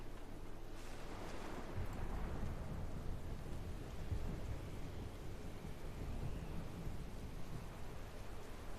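Thunderstorm at sea aboard a ship in the World of Warcraft video game: a steady, dense roar of rain, wind and surf with low rumbling thunder running through, constant and moderately loud throughout with no voices.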